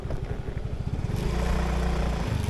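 A Yamaha Fino 125i motorcycle runs close by with a steady, low pulsing rumble that grows slightly fuller partway through, with no talking over it.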